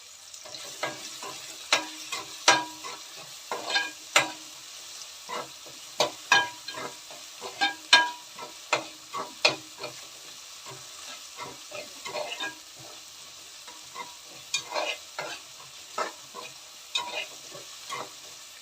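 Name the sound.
tomatoes being stirred and cooked in a pan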